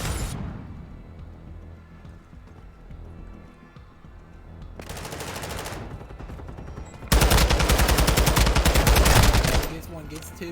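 Call of Duty match gunfire rattles in rapid automatic bursts, with a longer, louder sustained volley near the end, mixed with game sounds.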